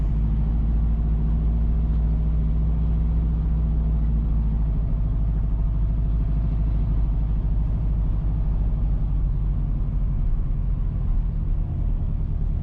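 A car heads south along Fort George Heights in Stony Hill, Kingston, Jamaica, its engine and tyres making a loud, steady low rumble from close by the whole way through with no talking.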